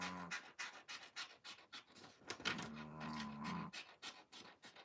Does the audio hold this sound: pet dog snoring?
yes